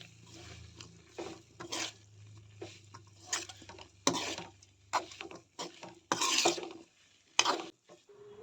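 Ridge gourd sukka is stirred and mixed in a pan with a spoon, making irregular close scraping and rustling strokes separated by short pauses, with light sizzling underneath and no talking.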